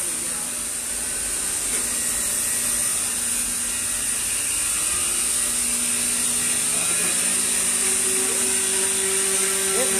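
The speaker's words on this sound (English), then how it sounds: "More bevel grind." Knife blade having a bevel ground on a powered grinder: a continuous loud high-pitched whine with a steady abrasive hiss throughout, no pauses, and no talk.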